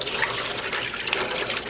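Water is poured from a container into a dye pot for speckled self-striping yarn, giving a steady, close rushing splash for the whole short span.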